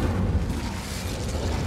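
Incendio fire spell in Hogwarts Legacy setting something alight, a brief low rumbling burst of flame that stays steady and fairly soft throughout.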